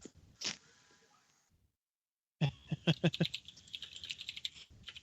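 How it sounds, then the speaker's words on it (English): Someone types on a computer keyboard at close range after a short silence, giving a quick cluster of clacking keystrokes followed by lighter, irregular taps. "You're just hearing my keyboard here for a second."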